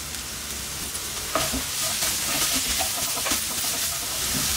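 Capsicum and shredded cabbage sizzle steadily in a hot pan, with the dense crackle of frying broken by scraping stirs and a sharper clatter just after the first second.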